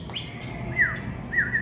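A pet parrot gives close, clear chirps and whistled tweets, a short burst at the start and then two rising-falling calls, heard alone without talk.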